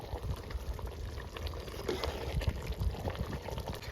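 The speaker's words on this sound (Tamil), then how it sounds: "இப்போ இது நல்லா கொதிச்சுக்கிட்டு இருக்கு" Water for mutton biryani bubbles and churns at a rolling boil in a pot, a steady close-up gurgling with crackling pops.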